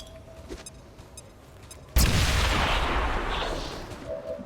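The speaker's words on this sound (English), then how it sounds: "Claymore. Frag him." A claymore mine in a video game detonates in a single sudden, loud blast, followed by a rumbling decay after a few quiet seconds of low background sound.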